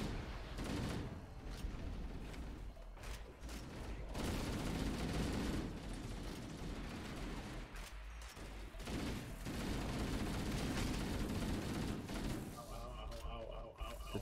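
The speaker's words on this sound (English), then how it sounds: "turrets are shooting me a lot" Video game turrets fire in a sustained barrage, thumping and crackling bursts of gunfire that come in waves over about fourteen seconds and turn to thinner, sharper fire near the end. A player's voice sounds intermittently through the shooting.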